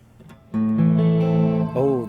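An electric guitar played through a custom-built pedal with shimmer reverb rings out as a single sustained chord with a bright, shimmering upper wash, close and clear, after a brief quiet moment.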